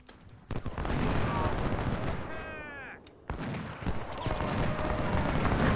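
Artillery cannon fire in the Ultimate General: Civil War video game, a dense run of booming shots and crackling volleys with a brief whistling sweep, continuous and loud throughout.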